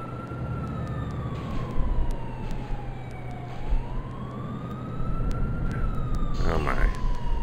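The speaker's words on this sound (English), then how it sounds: "Okay, I hear the sirens." Police car sirens wail in GTA IV, a long rising and falling tone over a steady engine and road rumble, with a second siren swelling near the end; no one speaks.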